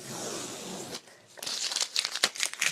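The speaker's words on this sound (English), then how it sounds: "see what it's like with the tape taken off" Tape comes off a surface after a faint, muffled start, giving a burst of crackly ripping and crinkling in quick, uneven spurts.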